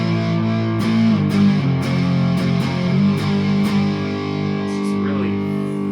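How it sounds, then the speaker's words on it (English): A thick, fuzzy distorted electric guitar through a King Tone Mini Fuzz pedal plays sustained chords with a few picked accents, loud and saturated. "It's just really thick fuzz"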